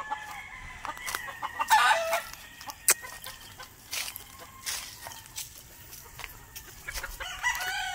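Gamefowl roosters on a farm crow and cluck at moderate distance, several overlapping calls scattered across the stretch amid faint outdoor background, with no talking.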